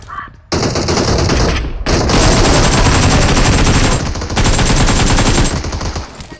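Sustained rapid automatic gunfire in a shooter video game, long loud bursts of continuous shots broken by brief pauses, close and dominant throughout.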